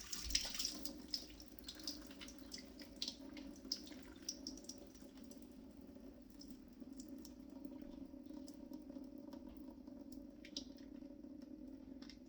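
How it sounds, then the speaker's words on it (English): Tap water runs steadily over navy beans in a kitchen sink, giving a soft, continuous splashing rush with small drips and trickles, close and quiet, with no talking. "Now I've got water running over those beans, and I pour most of it off."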